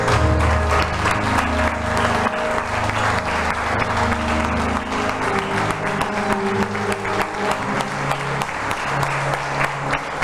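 A church congregation applauds God in a Portuguese-language service, dense continuous clapping that fills the space while sustained music chords play underneath, loud and unbroken for several seconds.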